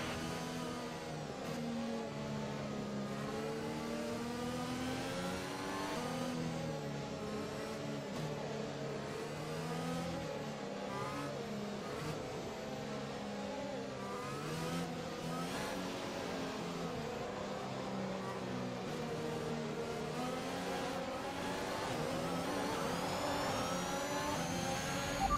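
Race cars in F1 2021 at the Saudi Arabian Grand Prix pull away as the field accelerates after a safety car, with a steady, loud blend of layered engine tones rising and shifting in pitch for the whole stretch, no talk.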